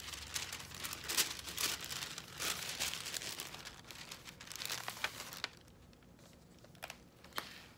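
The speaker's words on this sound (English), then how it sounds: "I'm gonna grab another piece of wax paper here." A sheet of wax paper crumpled and crinkled by hand during a string art craft, bursts of crackling close up for several seconds, then quieter with a few sharp crinkles toward the end.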